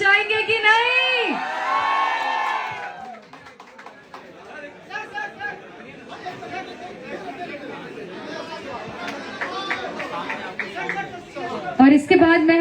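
Crowd at a Bhojpuri star's event at a clothing store cheers, whoops and chatters, a loud burst of excited voices at first that settles into a busy hubbub of voices with scattered shouts.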